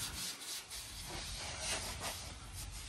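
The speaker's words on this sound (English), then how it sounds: "we're just sanding it smooth" Sanding a car body panel smooth in a paint shop, a continuous rough rubbing hiss from a dual-action sander with an interface pad, steady and close with slight surges, with no talking.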